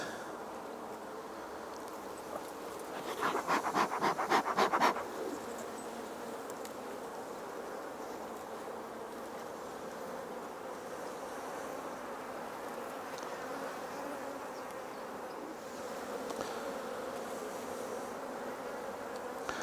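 Honey bees in an open 10-frame Honey Paw polystyrene hive drone in a steady, soft buzz throughout, with a short louder burst of buzzing and handling near the start and no talk.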